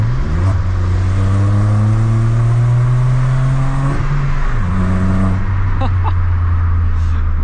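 A modified Volkswagen Polo with a loud aftermarket exhaust revs hard and accelerates up through the gears, its engine note climbing, dropping at each shift and climbing again, loud and close with no talking.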